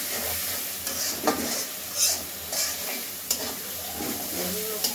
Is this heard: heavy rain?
no